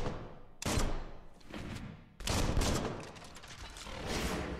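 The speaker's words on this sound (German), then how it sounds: "Zweimal schießen und dann damit los." Gunshots in the action game Biomutant: two heavy, booming blasts with rolling, crackling tails, the second one longer and sustained, loud and close with no voice present.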